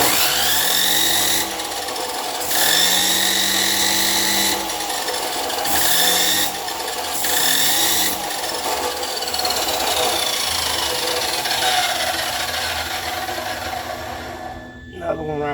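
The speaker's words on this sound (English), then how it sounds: "Grind a little bit of this off." An angle grinder runs loud and close on a vehicle frame under repair, a continuous rasping whine that dips and rises in pitch as it bears into the metal, cutting out near the end.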